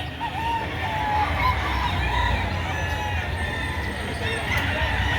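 Chickens at a poultry market crow and cluck steadily and close by, with a busy crowd murmuring throughout and a voice speaking over the birds.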